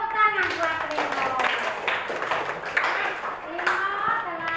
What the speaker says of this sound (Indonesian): tepuk tangan buat Rino